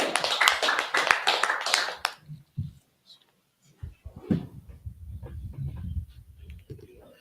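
Audience clapping at a biblical law class, a quick burst of close hand claps for about two seconds that cuts off, followed by quieter low rumbling, shuffling and a few knocks.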